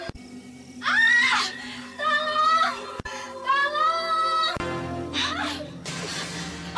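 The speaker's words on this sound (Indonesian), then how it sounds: "Sepertinya aku mendengar suara teriakan meminta tolong." High, strained screams for help at night, several long anguished bursts in a dramatized setting, loud and close with brief gaps between them.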